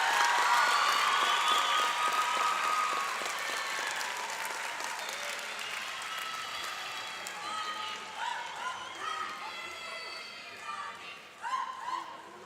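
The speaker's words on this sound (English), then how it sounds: "Let's have another round of applause for our graduates," A crowd applauds graduates at a 2022 commencement ceremony, loud sustained clapping with some cheering that thins out toward the end, with voices briefly rising near the close.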